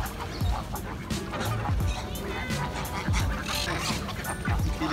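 Waterfowl at a park pond in Barcelona's Parc de la Ciutadella, with geese honking and clucking as a busy flock and a gull among them, all at moderate distance against steady outdoor background noise.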